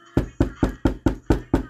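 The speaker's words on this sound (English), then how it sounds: "Knock, knock, knock." Someone knocks on a door seven times in an even, brisk rhythm, each knock loud, close and sharp, with nothing else heard.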